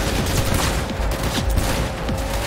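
A hard-recoiling weapon fires in the video game Cyberpunk 2077, with loud rapid bursts of gunfire repeating across the whole stretch over dense game sound.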